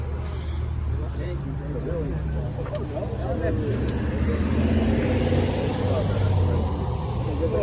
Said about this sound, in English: Listen to that V10, no doubt.